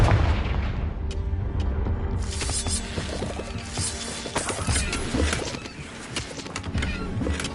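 Confringo fire spell explosions in the game Hogwarts Legacy, a dense run of booming blasts and crackling impacts, loud and close, over continuous rumbling combat noise.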